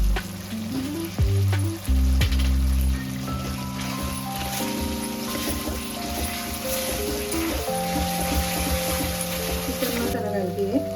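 A tomato and spice paste with salt fries in hot oil in a pan, a continuous close sizzle with stirring, and a few tonal clinks and hums mixed in.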